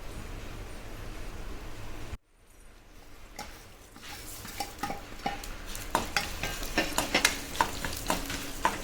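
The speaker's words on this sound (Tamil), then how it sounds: "2 டேபிள் ஸ்பூன் மல்லி எடுத்துக்கோங்க. எண்ணெய் காஞ்ச பிறகு தனித்தனியாக வறுத்து எடுத்துக்கோங்க." Coriander seeds roasting in hot oil in a pan for sambar: a soft sizzle stops briefly, then returns with stirring, scraping and clinking of a spoon against the pan, growing busier toward the end.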